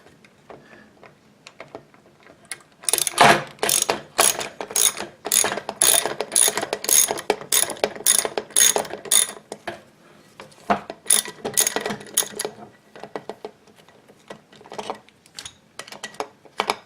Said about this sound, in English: You need a wrench.